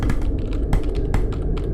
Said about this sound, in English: what kept tapping into his head was the loud clicking of his mouse and keyboard